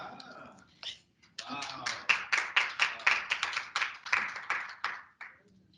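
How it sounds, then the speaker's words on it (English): Scattered clapping builds at a report launch event into a round of applause, a string of distinct, fairly close claps with some faint murmuring at the start. "Big round of applause to our rock star MC"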